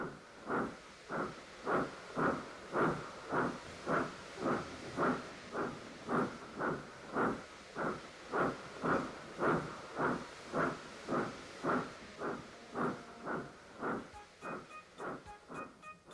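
A steam locomotive chuffs steadily along the line in an even, rapid rhythm of breathy hissing bursts that loosen and fade slightly near the end, with faint whistling tones at the close.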